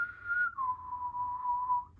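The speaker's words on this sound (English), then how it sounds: "I'm going to blow the little whistle" A small whistle blown in one long steady tone lasting about two seconds, pitch dropping slightly partway through, clear and close with no talk, at the end of a church group gathering.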